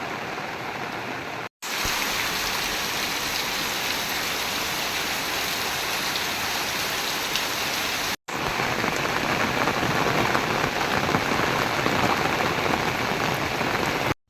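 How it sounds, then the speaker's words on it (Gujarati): Heavy rain pours over flooded farm fields, a dense, loud, continuous hiss of drops on surfaces that stays steady throughout, broken only by two brief cuts. "અને ફૂલે ફૂલ વરસાદ છે"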